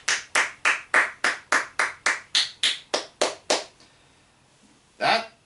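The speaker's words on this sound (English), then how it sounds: "I'll give it a round of applause for that one." One person claps a dozen times in a steady, even rhythm, close and crisp, then stops; after a short quiet pause a single louder clap lands alone.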